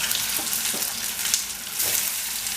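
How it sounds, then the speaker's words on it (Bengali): Boiled eggs coated in turmeric, cumin and coriander powder fry in a little oil with a loud, continuous close-up sizzle and a few soft stirring touches, with no talking. "এখন আমি একটু করে ফ্রাই করবো।"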